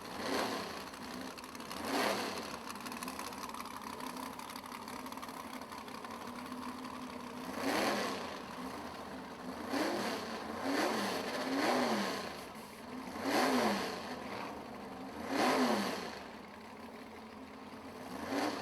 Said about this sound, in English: Coming up here in the left lane is going to be the Thanos machine, driven by the one and only Nathan King in the 89 Mustang